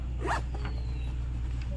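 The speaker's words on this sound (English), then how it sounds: "Plus they have these hidden pockets with zips." A zipper on a hidden pocket of olive Vertex Phantom Ops tactical pants slides in one quick close zip, followed by a faint second pull, in a quiet room with low steady hum.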